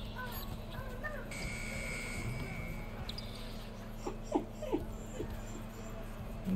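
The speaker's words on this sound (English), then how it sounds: "Sorry if you can hear my pup in the background." Pet dog whimpering and yipping in a room, several short high whines clustered in the second half, faint and close behind ongoing background hum.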